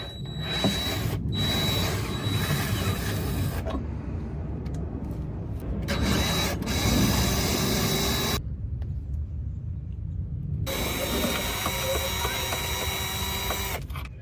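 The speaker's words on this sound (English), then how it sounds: "You can use a impact or drill or whatever you want on those." A power drill whirs in loud, sustained bursts separated by short pauses, driving bolts through the running board brackets of a Jeep Wrangler JK, close up, with mechanical rattling throughout.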